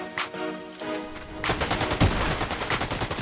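A burst of gunfire in Fortnite, a dense rattling volley of shots from about the midpoint onward with game noise before it, loud and close.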